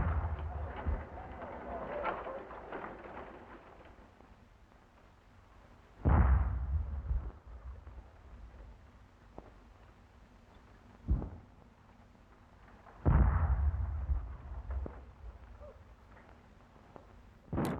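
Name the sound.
light field howitzers firing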